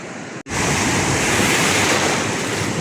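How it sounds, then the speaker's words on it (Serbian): Sea waves surge at Paradise Beach on the Greek island of Thassos: a loud, steady roar of surf that drops out briefly and then fills the scene without a break. "Talasi se od jutros ne smiruju."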